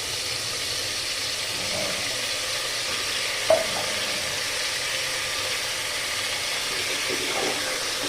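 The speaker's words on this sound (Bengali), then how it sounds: "আলুটা দিয়ে ভালো করে তেলের সঙ্গে একবার আমি নেড়ে দেবো" Cut potato pieces are turned in hot oil in a pan, giving a steady moderate sizzle with a single sharp utensil click partway through, and no one speaking.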